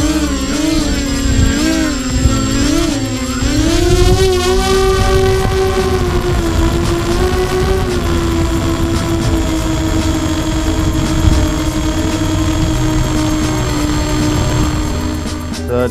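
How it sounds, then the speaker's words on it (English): An FT SeaDuck RC airplane on a 4-cell battery with 9x4.5 propellers whines loudly and continuously at about three-quarter throttle, its pitch wavering and then rising into a steady buzzing drone during takeoff. "Takeoff, that was probably 3/4 throttle"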